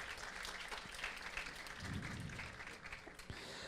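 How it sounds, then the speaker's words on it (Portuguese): An audience applauds at the opening of a university communications event as a law student association president is called to the stage. The clapping is faint, distant and dense, with a steady wash throughout. "Uma salva de palmas ao presidente do Centro Acadêmico de Direito."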